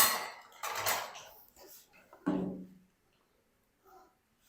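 Fried potato-semolina snacks being strained from oil, giving a few close metallic scrapes and clinks of a utensil against a pan or strainer, in short bursts that trail off into near silence.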